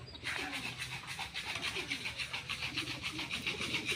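A blue bar racing pigeon cooing on a rooftop after landing during a training flight in Guimba, Nueva Ecija, with soft repeated coos rolling steadily over a constant outdoor background.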